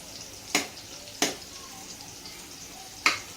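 Carrots frying in a home kitchen pan while a carrot vegetable dish is made: a soft, steady sizzle with three sharp clicks from a spoon or pan, quiet and close.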